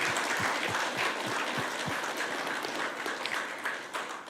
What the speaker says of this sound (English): Could everyone join with me in a big round of applause for Professor Majid?